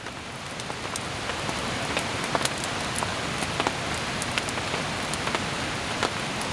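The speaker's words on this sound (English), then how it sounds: "Sounds like the rain's starting." Steady rain falls throughout at a forest bushcraft camp beside a river, a dense hiss with scattered sharper drop ticks spattering on a surface, fairly close and even in loudness.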